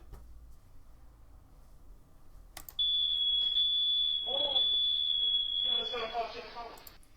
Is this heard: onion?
no